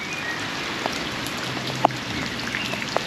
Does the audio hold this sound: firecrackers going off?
no